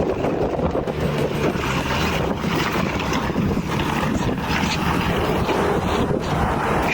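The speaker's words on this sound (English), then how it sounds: "a powerful dust tornado tore through the site with" Strong gusty wind from a dust tornado roars and buffets the microphone continuously, a dense rushing noise with no voices.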